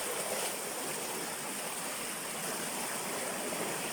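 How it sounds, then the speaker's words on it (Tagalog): Strong current of a stream rushing over rocks, a steady broadband roar close by with no pauses and no talk. "Malakas yung agos."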